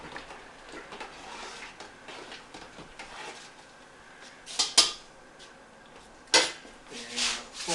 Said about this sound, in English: we're just going to give that a stir